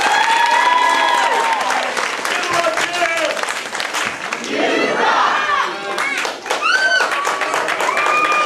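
At a martial arts belt ceremony in a family martial arts center, loud close applause and cheering greet new red belts, with whoops, shouts and voices mixed through the steady clapping.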